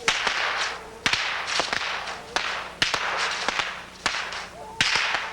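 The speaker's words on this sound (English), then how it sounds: "There's pod number 2 packed with fireworks." Firework mortars launch at a 1989 Christmas fireworks display in a series of sharp cracks, each followed by a hissing whoosh, roughly one per second, fairly close.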